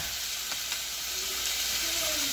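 Chicken pieces for a chicken curry sizzle and fry steadily in a hot pan, a continuous broadband hiss with occasional faint clinks, close and fairly quiet throughout.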